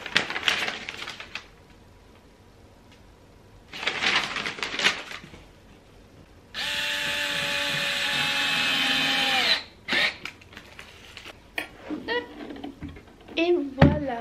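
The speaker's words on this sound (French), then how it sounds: "Chercher ma visseuse. Mais je visse comme ça dans le truc là." A cordless screwdriver drives screws while someone puts furniture together at home, a steady whirring burst of about three seconds, with shorter bursts before and after amid clattering handling and talk.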